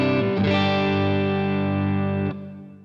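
An electric guitar runs through a Walrus Audio Mira optical compressor set to full compression, holding a dense, evenly sustained chord that stays level before tapering off near the end.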